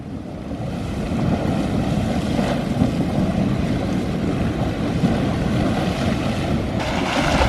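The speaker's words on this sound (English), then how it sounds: "Just in time, the jet geyser is taking off." Jet Geyser at Yellowstone erupts with a steady, loud roaring rush of water and steam that stays broad and constant throughout, with wind buffeting the microphone and no talk.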